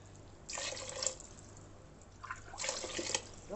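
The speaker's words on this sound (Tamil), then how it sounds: "இப்போ 3 கப் பாஸ்மதி ரைஸ்க்கு நம்ம 5 கப் தண்ணி விட்டுடலாம்." Water poured into a cooking pot for mushroom biryani with basmati rice: two soft splashing bursts of pouring separated by a pause, close and quiet, with no voice.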